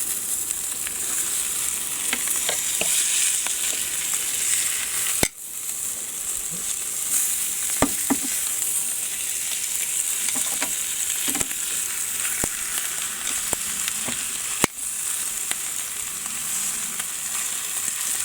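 Meat sizzles steadily on a barbecue grill as the pieces are flipped, a constant close frying hiss broken by a few sharp clicks and scrapes from the turning tool, with no talking.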